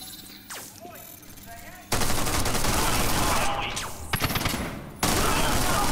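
Bursts of rapid gunfire in the VR shooter Wanted Killer VR, with loud sustained volleys cutting in abruptly after a quieter stretch of whooshing game sounds, the firing stopping briefly and then resuming.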